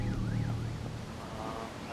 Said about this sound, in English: Got my siren that I could turn on.